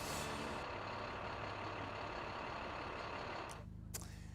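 School buses carrying thousands of New Albany and Floyd County students rumble past, with a loud, steady engine and road roar. The noise cuts off into a quieter idle near the end, and a brief hiss fits an air brake release.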